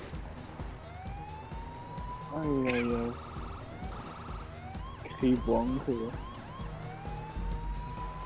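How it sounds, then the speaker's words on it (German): A police siren wails in GTA Online, rising and falling steadily in the background while people talk and laugh over it. "Ey, im Video höre ich die Sirene."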